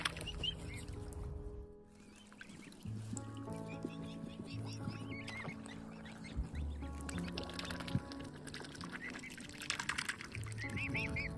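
Ducks and young cygnets call close by at the water's edge, with short bird calls scattered through a steady outdoor background and a low voice speaking softly now and then.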